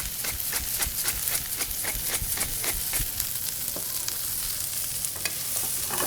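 Brussels sprouts frying in rendered bacon fat in a pan, a steady dense sizzle with scattered crackles and pops and a few stirring scrapes, loud and close with no voices over it.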